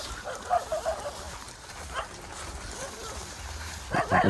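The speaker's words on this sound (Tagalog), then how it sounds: "Salubong na tayo ng mga aso." Dogs bark and yip at a rural site, short bursts near the start and louder close barks at the end, with people talking in between.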